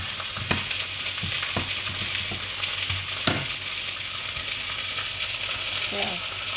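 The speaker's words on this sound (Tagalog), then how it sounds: "Gigisa ko siya with konting sibuyas." Onions sautéing in a pan give a steady close sizzle with occasional sharp clinks of a utensil stirring and scraping.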